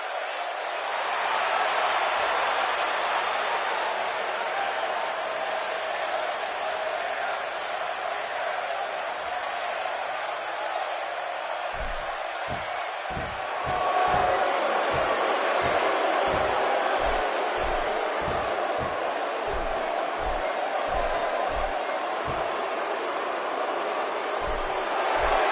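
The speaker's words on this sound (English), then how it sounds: "Would you listen to this crowd?" A dense arena crowd roars and cheers steadily inside a PS4 fighting game, a broad wash of noise with a rhythmic stomping or clapping beat joining partway through and swelling louder.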